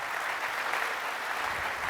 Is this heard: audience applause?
yes